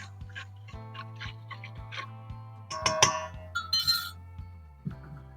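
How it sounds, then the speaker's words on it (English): Sugar stirred into a bowl with a spoon, bright little glassy clinks tapping in an uneven rhythm close up, a few quicker scrapes and knocks in the middle over a low steady hum. "And I'm going to add a teaspoon of sugar. And I'm going to kind of give that a little stir."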